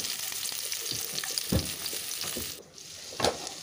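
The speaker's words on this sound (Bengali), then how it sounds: "পেঁয়াজটাকে একটু ভেজে নিচ্ছি" Two chopped medium onions fry in hot oil in a karai, a steady close sizzle with a few louder spatters as they are stirred.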